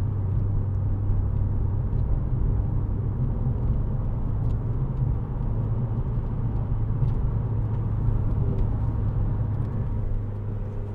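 A 2010 Renault Clio 2.0 VVT Renaultsport three-door pulls out to overtake on a motorway, its engine and road noise making a steady low droning rumble inside the cabin with no rising surge.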